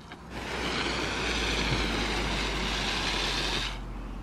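Water sprays steadily from a 16-inch DRAMM rain wand outdoors. A broad, even hiss starts abruptly, holds at a constant level for about three seconds, then cuts off.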